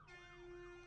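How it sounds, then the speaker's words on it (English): A siren wails softly in the distance, its pitch slowly rising and falling beneath a steady low hum. "Hear that siren?"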